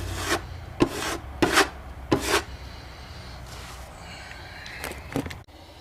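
Excess filler is scraped off a patched hole in a hollow wooden door: about four short, rasping strokes close together, then a pause and a few fainter scrapes.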